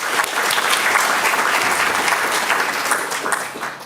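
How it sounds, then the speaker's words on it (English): A lecture audience at a science talk on membrane proteins and mass spectrometry claps in a full, steady round of applause that stays even and then tapers slightly at the end, with no speech over it. "I want to give them a big round of applause as well."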